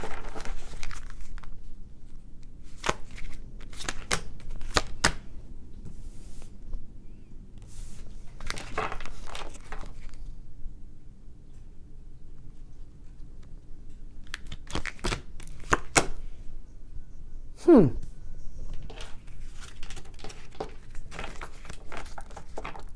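Two tarot card decks are shuffled by hand, giving soft scattered riffles and brief card flicks separated by quiet pauses, close and fairly faint.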